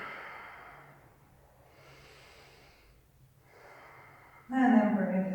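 Slow, audible breathing during a yoga pose: long airy inhales and exhales drawn out over several seconds, soft and close, with a louder voiced breath or short spoken sound at the end.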